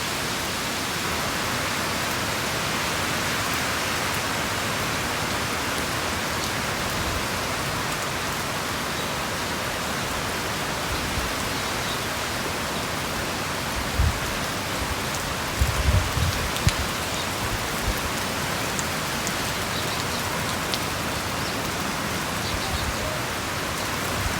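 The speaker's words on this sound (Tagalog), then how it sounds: "Medyo basang-basa sila ngayon kasi umuulan po." Steady rain falls across an ostrich farm in Nagano, Japan, a constant hiss of drops on open ground with a few brief low thumps near the middle and no voices.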